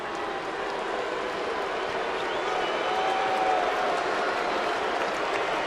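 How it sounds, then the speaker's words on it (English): A baseball crowd at a Phillies at Dodgers game boos Shane Victorino as he comes up to bat. The crowd noise is a loud, steady, dense roar that holds for the whole stretch with no clear breaks. "It's hard to believe that the crowd boos Victorino."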